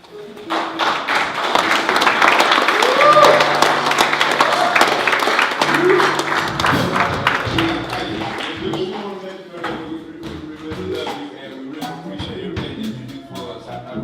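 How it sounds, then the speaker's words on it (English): A basketball banquet audience stands and claps for a woman being honored, with rapid applause mixed with voices and cheers, louder at first and then fading into scattered claps and talk. "the basketball team finna stand up and clap for her"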